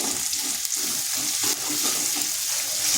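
Green chilies and ginger fry in a pan, a loud close hissing sizzle with continuous stirring and scraping over the whole stretch, with no one speaking.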